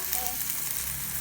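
Onion and tomato frying in a pan for Maggi noodles, a steady broadband sizzle, close and fairly loud, continuous throughout with no talk.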